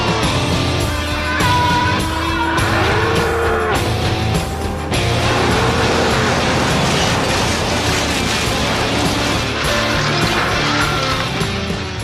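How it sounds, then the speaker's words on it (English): A bulldozer tearing down a house, with heavy engine rumble, grinding mechanical clanks and creaking, groaning noises from the structure, loud and sustained with a short break in the middle. "Time to bring in the fucking bulldozer!"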